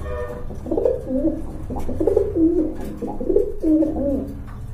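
Several pigeons, including a pair of Chila pigeons, coo in repeated low throaty phrases close by, a steady rolling rhythm with no voices over it.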